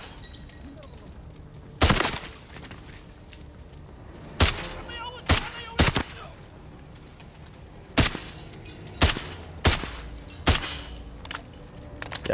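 Sharp single gunshots in the shooter Modern Warfare ring out one at a time at irregular intervals, and each crack stands out loudly against a quiet, rumbling background.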